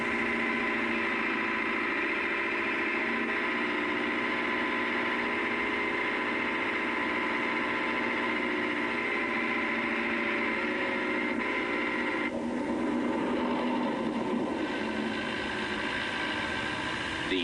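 Vintage 25 horsepower Leyland 154 tractor marking out a farm field, its engine running in a steady, loud mid-pitched drone that holds evenly throughout.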